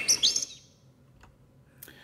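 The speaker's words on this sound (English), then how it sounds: "if you wanted to get this same bird sound back in" A short bird chirp from gardening show audio: a bright burst of high tweets at the start, then a faint tick and one brief later chirp over quiet background.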